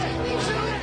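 Crowd at a Ben Shapiro event, a steady murmur of many overlapping voices filling the room.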